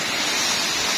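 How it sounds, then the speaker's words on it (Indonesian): Waterfall at a village tourist spot in Brumbun, Madiun, during a dry spell with low water flow, heard as a steady, dense broadband rush of falling water with no other sounds. "Nah, ini air terjunnya, guys."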